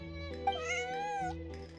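A cat named Bonnie meows in Genshin Impact, one clear drawn-out meow over a steady hum of game music, fairly close and alone without talk.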